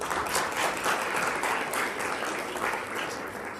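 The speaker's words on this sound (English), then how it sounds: "I think that's worthy of a round of applause." Guests at an anniversary gala dinner break into a sustained round of applause, dense and even, close and lively throughout with no talking over it.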